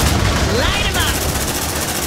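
Rapid gunfire in the sci-fi video game Aliens: Dark Descent, a steady, dense crackle of automatic shots over two seconds, mixed with sweeping electronic tones and game voices calling out.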